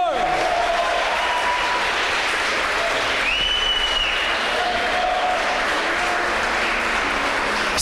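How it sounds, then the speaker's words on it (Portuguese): A church congregation bursts into applause at a Brazilian worship service, a broad steady clapping from a crowd that fills the room with a few brief tonal sounds and voices rising over it. "se você crê nisso, aplaude o nome do Senhor."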